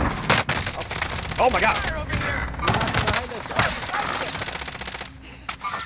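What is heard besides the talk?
gunfire from a video game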